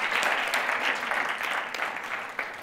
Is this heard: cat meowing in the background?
no